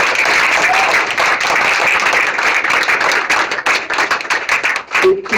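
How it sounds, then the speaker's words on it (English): An audience at an expo gives a loud round of dense clapping and cheering that runs the whole time and thins out near the end. "Another round of applause."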